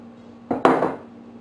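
Two quick close clatters as flour, sugar, almond powder and vanilla are tipped into a bowl, a short soft thud followed by a louder scraping rattle, then quiet hum.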